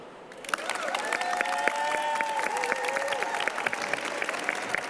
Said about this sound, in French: un gros coup d'applaudissement